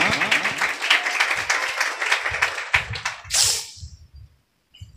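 A burst of clapping and applause from a church congregation during a Sunday service, fairly loud and continuous, fading out near the end with a few scattered claps after a pause.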